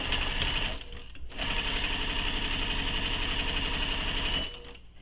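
A sewing machine stitches the edge of a fabric sling pack in steady rapid bursts, pausing briefly near the start and slowing to a stop at the end, with no talk.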